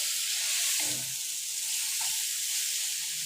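Tomatoes frying in a pan for aloo arvi give a loud, continuous hissing sizzle, with a short low stir or bump near the start.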